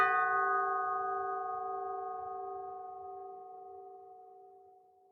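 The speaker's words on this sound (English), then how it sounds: "The sound of the calling bell brought him out of his ruminations." A single bell chime rings out and slowly fades over several seconds, clear and alone with no other sounds.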